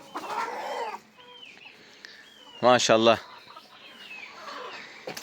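Chickens and chicks cluck and chirp close by in a coop, with a loud burst of rapid clucking in the middle; a person speaks briefly.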